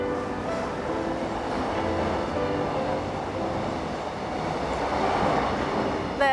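Train rolling through a small countryside station where it does not stop, a steady rumbling wash of rail noise with faint clicking, heard alone and sustained throughout.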